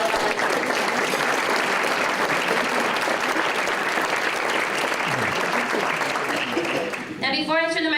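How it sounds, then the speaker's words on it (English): Sustained, hearty applause from a breakfast crowd honoring volunteers, a dense even roar of clapping that carries on for several seconds before a voice cuts in near the end. "How about a big round of applause for all of our volunteers?"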